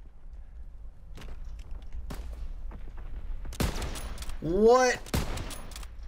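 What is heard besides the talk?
gunfire in a WW2 video game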